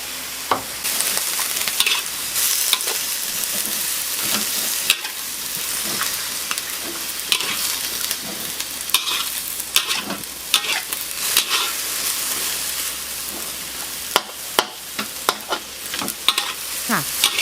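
Bok choy with minced pork being stir-fried with water, keto oyster sauce and keto light soy sauce, a steady close sizzle under repeated scraping and clacking of a utensil against the pan, with no talking.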